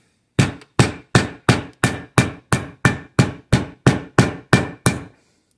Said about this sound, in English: So I'm gonna grab my mallet